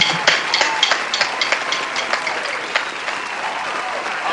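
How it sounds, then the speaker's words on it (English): Audience applause at a National Signing Day event for marching bands, a steady wash of clapping with sharp individual claps poking through, holding at a fairly even level before easing slightly. "let's get a applause"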